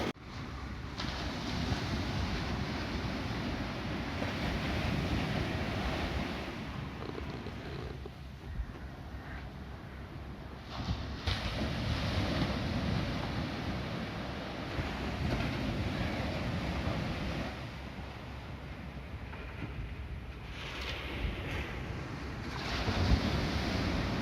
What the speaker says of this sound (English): अब देखिए इन बीच की लहरों को